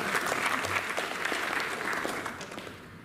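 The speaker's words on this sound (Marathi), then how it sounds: "या डायलॉगवर टाळ्या होऊ द्या" Audience applause at a book launch ceremony for a biography of Sant Tukaram Maharaj in Aundh, steady clapping from a crowd that gradually fades a little, with faint murmuring underneath.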